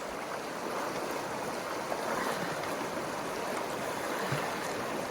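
Water rushing and splashing steadily as hikers wade across a river on the Continental Divide Trail between Silver City and Doc Campbell's, a continuous close wash of flowing current without speech.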